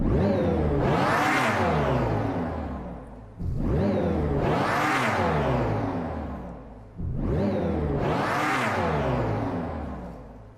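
Dodge Charger Daytona SRT concept electric muscle car giving three loud synthetic rev sweeps that each surge up and fall away, spaced about three and a half seconds apart, with no voices.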